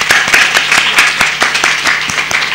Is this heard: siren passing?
no